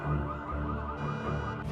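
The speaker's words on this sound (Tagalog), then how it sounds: "sinadya niyang patunugin ang alarm ng mga sasakyan upang lituhin ang mga" Car alarms going off in a parking lot in a film scene, a moderately loud, repeating electronic wail with steady tones and no voices.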